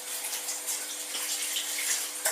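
Tap water runs steadily into a bowl as it is rinsed in a kitchen before making fruit salad. The gushing sound is continuous and close, with a brief louder splash near the end.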